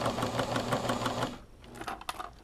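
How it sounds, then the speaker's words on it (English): A sewing machine stitches fabric with a fast, steady mechanical chatter for about a second and a half, then stops, leaving quieter scattered clicks and handling noise. "See, I forget that you can even run a sewing machine over little metal needles."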